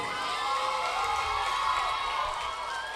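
A school audience at a ganamela music show in Kerala applauds and cheers, a continuous wash of clapping with shouts and whoops from children, fairly loud and sustained throughout.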